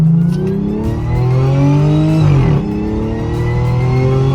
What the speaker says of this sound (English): The reason this got the name the baby Hellcat is because of the signature supercharger whine that it has